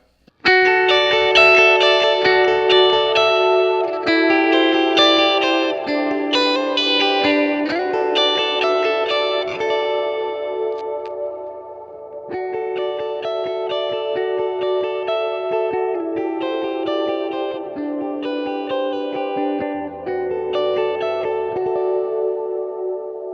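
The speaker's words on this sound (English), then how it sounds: "We've got this nice heavy verb, and then play the riff again." A distorted electric guitar riff rings out with a big, washy reverb tail, chords repeating in a steady pattern, loud and continuous, no talking.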